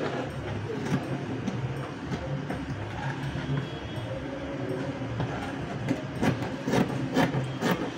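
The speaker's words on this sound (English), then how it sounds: "I'll just continue to cut this." Scissors cutting through organza fabric for a one-shoulder blouse, producing a run of close, crisp snips and rustling drags, with the sharpest cuts clustering toward the end.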